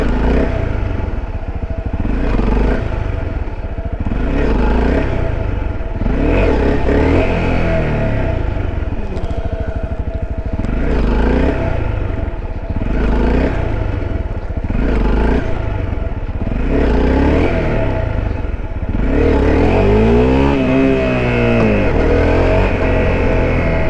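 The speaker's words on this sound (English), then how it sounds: "That's the first couple times I've ever actually successfully wheelied this bike" A motorcycle climbing a hill while being wheelied, its engine loud and close, revving in repeated surges roughly every two to three seconds with drops between, and a longer rising pull near the end; no talking.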